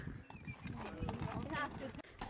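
Horses clip-clop along at a trot while pulling a cart, their hoofbeats close and steady under continuous talk from people nearby.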